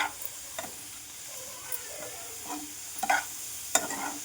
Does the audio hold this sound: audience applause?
no